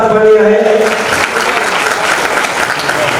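Loud, sustained applause fills the hall at a Digambar Jain community event in Ujjain as a guest is honoured with a garland, briefly overlapping a tonal voice or amplified sound at the start before settling into steady clapping.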